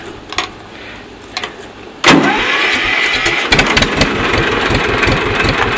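A Sears 10 HP, 30-inch riding mower fitted with a China Diesel engine cranks with a few brief knocks, then fires abruptly and settles into a loud, close, rapid chugging diesel idle.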